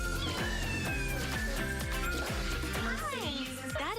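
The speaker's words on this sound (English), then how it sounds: "That is a beautiful cat." A cat at an animal shelter meows loudly and repeatedly in drawn-out, wavering calls, close by, over a rhythmic background beat.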